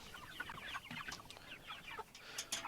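Chickens in a Suscovich chicken tractor on pasture cluck and chatter continuously, several birds close by making busy overlapping calls at a soft level with a few sharper peeps.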